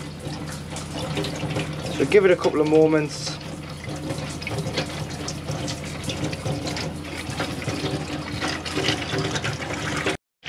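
A tap in an Auto Sleeper Wilton motorhome runs on the hot side to purge water and air from the system, giving a loud rushing flow with sputtering bursts early on, while someone talks over it.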